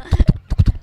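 A person's voice imitates a horse's hoofbeats with quick clicking clip-clop sounds, two rapid groups of three, close and loud.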